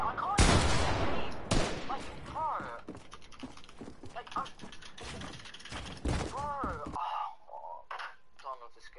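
Gunfire in the video game Fortnite crackles in sharp bursts and rapid volleys, mixed with mechanical clicks and other game effects, loud and close, trailing off into scattered quieter shots near the end.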